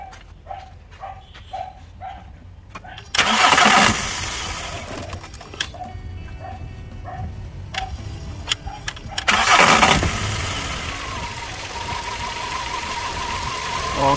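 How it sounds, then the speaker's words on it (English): A car engine cranks and roars to life twice, each start a loud surge followed by idling, while a dog barks repeatedly in between. "let me start the engine."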